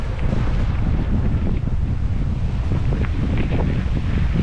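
Strong wind blows hard across the microphone outdoors near a rail line, giving a steady, loud, broadband roar and buffeting that runs through the whole clip with no talk.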